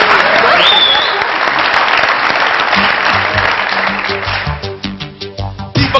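Loud audience applause in a studio comedy show, dense clapping filling the room and thinning into scattered individual claps toward the end.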